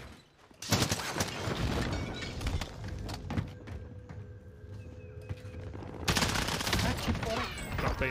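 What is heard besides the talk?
gunfire in video game Call of Duty Warzone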